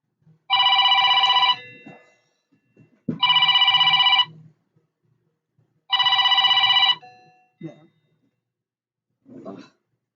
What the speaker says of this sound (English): That was a phone call.